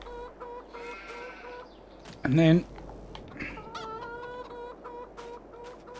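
Chickens cluck softly in Farming Simulator 22 as a steady, repeating farmyard sound, under someone talking and some clicking.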